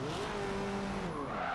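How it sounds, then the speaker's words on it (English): Tyres locking and squealing under hard braking on a car in Forza Motorsport 7, a brief steady screech over engine noise with no talk. "My tyres lock up and I go forward."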